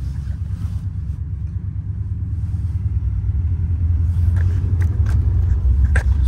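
A Chevy pickup truck's engine rumbles low and steady, growing louder as it drives, with a few faint clicks and rattles toward the end.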